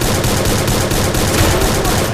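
Gunfire in the Free Fire battle royale game rattles in a dense, continuous stream of rapid shots, loud and unbroken for the full stretch with no voices over it.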